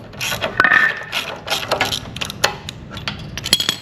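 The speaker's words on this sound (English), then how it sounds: "I'm going to get my wrench on there, my socket, and I'm going to loosen both of them on this side" Socket wrench ratchet loosening bolts on a Revolution reel mower, giving close, sharp clicking and metallic ratcheting in uneven bursts, with a small squeak as a bolt turns, with no voices.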